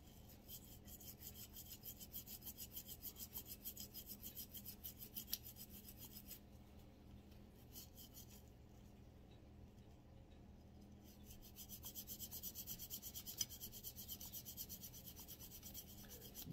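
A brush scrubs the slide of a Walther CCP pistol, giving a steady rhythmic rasping scrape that is close and quiet, with a brief pause in the middle before the scrubbing resumes.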